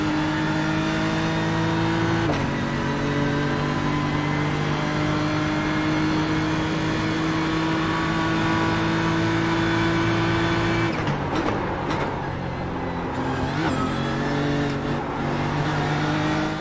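A BMW GT3 race car at Monza in iRacing holds a loud, steady engine drone. It drops sharply once, climbs again, then goes through quick downshifts with a rough, stuttering blip near the end, and no voices are heard.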